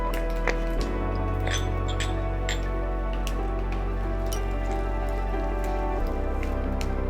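Cumin seeds and asafoetida hit hot oil, setting off a loud, steady crackling sizzle with scattered pops throughout, close up and with no voices.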